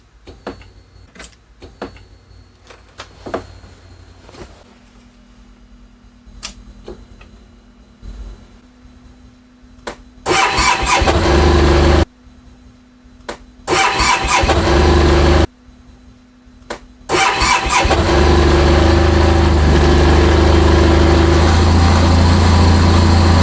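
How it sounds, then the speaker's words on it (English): A motorcycle engine in a garage cranks after several quiet clicks and a hum, then fires up loud and close, cuts out twice and restarts before settling into a steady roaring idle. "now we can get this bike started"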